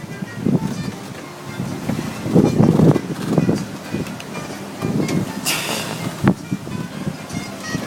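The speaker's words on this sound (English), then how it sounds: "21 knots of wind." Strong 21-knot wind buffets a boat under way, a steady roaring rush of wind noise and water over the whole stretch, with gusty swells and a few sharp knocks close to the microphone.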